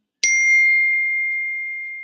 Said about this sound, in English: Who is texting my phone?